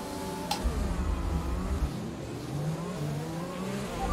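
A race car engine in a racing video game drones steadily on the formation lap, its pitch rising and falling gently with throttle, with faint ticking clicks.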